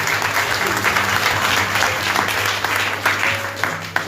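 A church congregation applauds in a dense, sustained round of clapping from many hands, with faint voices mixed into the crowd.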